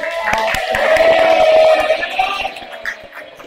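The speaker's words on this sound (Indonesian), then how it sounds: "Beri tepuk tangan yang meriah sekali dong." Classroom students clap for presenting groups during a teacher's lesson, a short burst of scattered hand claps mixed with chatter and a voice, fading out toward the end.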